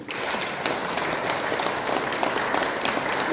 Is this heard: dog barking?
no